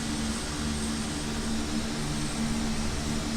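Steady, droning engine hum of an Airbus A400M military transport in Microsoft Flight Simulator 2020, a constant propeller-turbine tone with a broad rushing background and no change in level.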